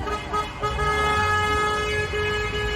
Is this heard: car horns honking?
yes